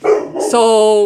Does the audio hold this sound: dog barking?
yes